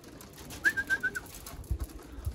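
Pigeons being fed corn outdoors give a single soft, brief cooing call, faint in a quiet background with light rustling.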